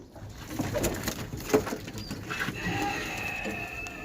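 Pigeons coo softly in a pigeon loft or market, with overlapping calls over a steady background hum and faint mechanical noise, and no one speaking.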